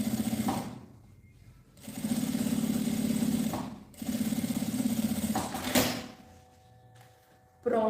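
A sewing machine runs in two sustained bursts of stitching along the edge of a fabric lining for a cylinder-shaped cosmetic bag, with brief pauses and small handling knocks between runs; no one speaks.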